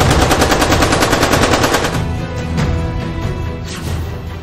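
Rapid, sustained automatic gunfire from an RPF constable aboard a moving Mumbai train, a dense rattling burst for about two seconds that then thins into scattered, echoing shots.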